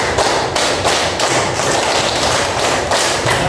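A classroom of students clapping together in a group rhythm exercise, loud and close, with repeated bursts of many hands striking in a steady pattern.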